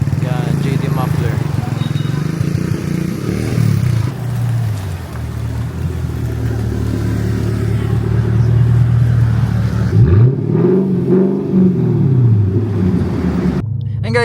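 Car engine fitted with a new JD Muffler exhaust, revving loud and close, with a steady deep rumble that rises and falls through several throttle blips in the second half.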